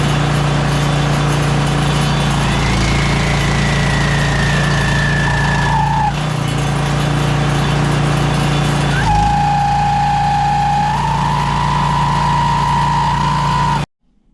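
A snow blower engine runs loud and close, chugging steadily while its tone rises and falls with the throttle, then cuts off abruptly at the end, with no talking.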